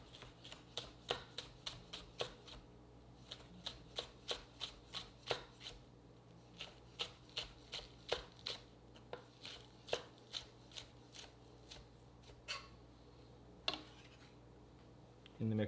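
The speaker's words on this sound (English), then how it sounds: "I'm gonna trim off the hairy part. I'll cut these on an angle." Scallions sliced on an angle with a knife, giving a quick, steady run of crisp chops against the board, close and fairly quiet, pausing briefly near the end.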